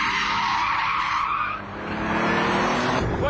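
A car brakes hard before a corner and its rear slides out, tyres squealing loudly and continuously with the engine roaring underneath, the screech dipping briefly mid-slide before surging again.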